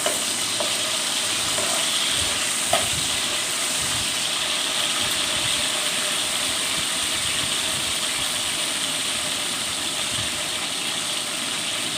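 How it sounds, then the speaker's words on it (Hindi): Four or five green chilies frying in hot oil in a pan, a steady, moderately loud sizzle lasting throughout with no talking. "अब ये 4-5 मिर्चें हैं, सब बस ये डालेंगे। इसको 1 मिनट तक भून लेंगे इस तरह से।"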